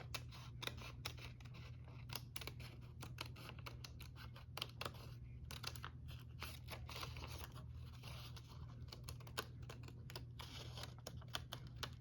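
Scissors cut through paper or card close by, quietly, a long series of soft, irregular snips and crisp clicks set over a low steady hum, with no talking.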